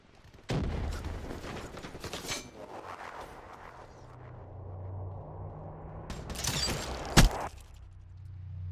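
Gunfire and mobile artillery in the video game Call of Duty Black Ops III: sharp shots and heavy blasts burst out at the start and again near the end, with a loud single crack, over a low rumbling mechanical background.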